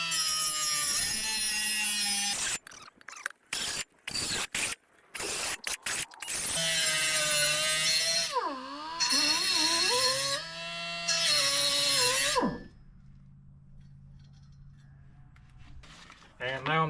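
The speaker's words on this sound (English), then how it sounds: "go ahead and cut out these relief joints for the fuel pickup" A power cutting tool whines loudly and close while cutting relief joints for a fuel pickup, running in long bursts with rapid stops and pitch dips under load before going quiet.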